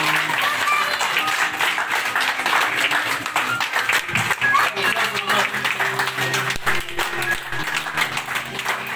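Applause at a family birthday celebration for a father's fiftieth, a room of guests clapping in lively uneven bursts, steady and fairly close, with background music humming beneath.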